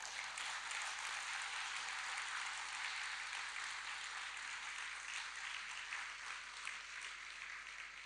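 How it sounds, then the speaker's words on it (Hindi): Dense, steady applause from a large audience, loud and continuous for the whole stretch with no pauses. "उनको जोरदार तालियां बजाते"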